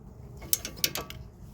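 A ratchet snugging the rear sway bar link nut on a Toyota Camry gives a few quick, close clicks with sharp bursts, spread over about a second, with no one talking.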